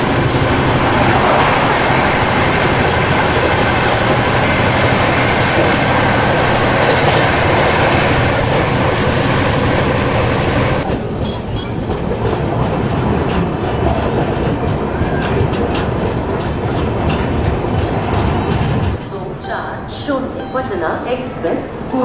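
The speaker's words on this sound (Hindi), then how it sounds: "और अब हमें क्रॉस करने वाली है अगस्त क्रांति तेजस राजधानी एक्सप्रेस" The August Kranti Tejas Rajdhani Express thunders past at night, a loud, continuous roar and rattle of wheels on rails heard from another train, with talk partly under the din.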